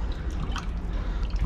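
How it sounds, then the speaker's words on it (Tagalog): Water drains from the drain plug of a Grundfos CM3-5 1.5 HP water pump, a steady close trickle and drip over low hum, with no talk. "palalabasan natin yung tubig dito."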